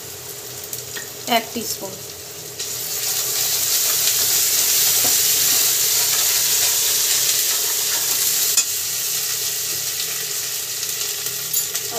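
Ginger paste frying in hot oil for a Bengali tilapia curry gives a steady, close sizzle that swells after a few stirring clinks and keeps hissing, with a brief spoken remark near the start.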